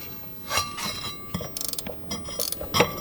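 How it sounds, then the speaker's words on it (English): A ratchet wrench works a 13 mm bolt on the short shifter of a turbo Ford Mustang, giving several quick bursts of rapid metallic pawl clicks close up, with short pauses and faint handling clunks between strokes. "so now we'll remove this bolt, which is a 13 millimeter."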